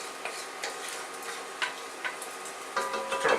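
Bacon sizzling in a soup pot for corn chowder, a steady low frying hiss with scattered pops and crackles that grow busier toward the end, heard up close with no talking.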